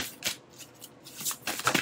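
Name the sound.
shuffling tarot cards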